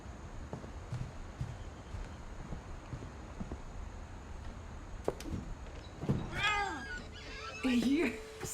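A cat in the video game What Remains of Edith Finch meows with rising, wavering cries near the end, after a low ambient stretch with soft knocks.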